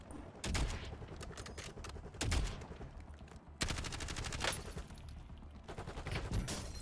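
Gunfire in Call of Duty Warzone Rebirth, with bursts of rapid automatic shots and single cracks rattling close and loud, some volleys nearer and others trailing off, no talking over them.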